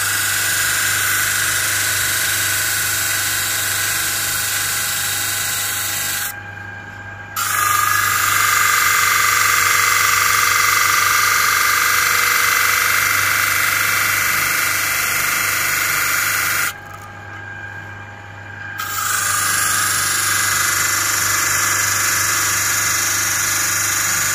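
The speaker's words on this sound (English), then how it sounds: "So we're now going to sand up this piece of birch ply." An electric power sander runs steadily on a piece of birch plywood, a loud close whine that cuts out twice briefly before starting again.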